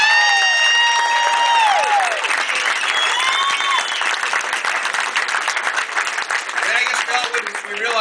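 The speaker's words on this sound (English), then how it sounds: "Give them a round of applause." Loud audience applause for campaign volunteers, with whoops and cheering voices rising over steady clapping at the start, then sustained clapping with scattered shouts.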